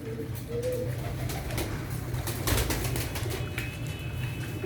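Pigeons at feeding time around grain trays, soft repeated cooing from several birds close by over a steady background hum.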